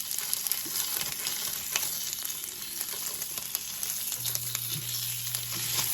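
A sausage smash patty fries in leftover butter in a pan, giving a steady close sizzle with crackling pops and faint utensil scrapes, no talking.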